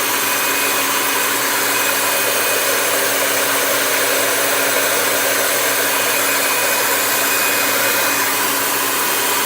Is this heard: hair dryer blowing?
yes